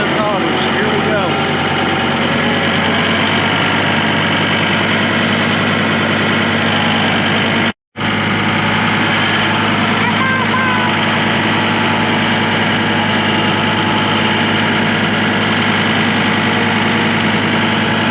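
An old tractor engine running steadily, a loud close continuous diesel drone with rattling vibration, briefly cut out midway, with a voice heard in the background.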